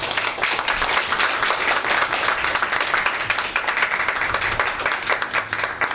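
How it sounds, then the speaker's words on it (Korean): An audience at a Seoul social workers' association election debate gives the two candidates a steady round of applause, dense and loud clapping that lasts throughout with no speech. "두 후보자께 우리 큰 박수 부탁드립니다."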